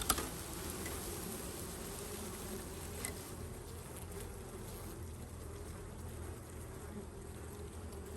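Steady dense buzzing of a large bee colony at a wintering swarm-catch hive in an apiary, a continuous close drone holding evenly throughout with no talking.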